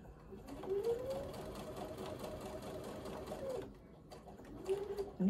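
A sewing machine stitches a quilt block seam in a close, steady run of rapid needle rattle. It pauses briefly and then starts up again.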